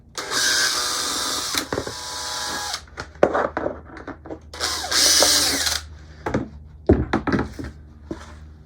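A power drill whirs in bursts, several short drillings through the bottom of a pot, punctuated by knocks and clunks as the bit breaks through, close and loud, no talking.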